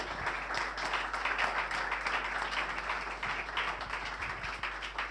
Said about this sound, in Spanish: Les pido un aplauso para recibirlo, por favor.